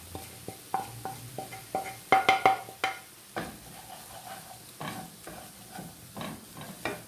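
Ginger, garlic and powdered spices frying in a pan for Almalaki rice, stirred with repeated soft scrapes and knocks over a quiet, steady sizzle.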